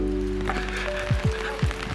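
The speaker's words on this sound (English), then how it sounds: "it's pouring rain today" Pouring rain falls steadily outdoors at a giant panda enclosure in China, a dense close hiss broken by a few soft thumps.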